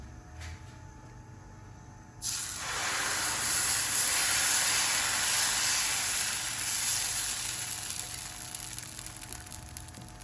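Dosa batter hitting a hot pan bursts into loud, steady sizzling and hissing that holds for several seconds after a quieter moment, close and continuous with no talk.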